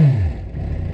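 A garage-kept motorcycle with 22,000 miles fires up for the first time, a brief close engine burst dropping into a rough low idle.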